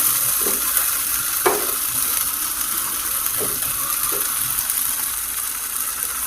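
Chicken noodles with ketchup sizzle and fry steadily in a hot pan, with a few soft scraping stirs of the spatula standing out against the continuous hiss, close up and with no talking.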